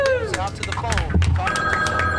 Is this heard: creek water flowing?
no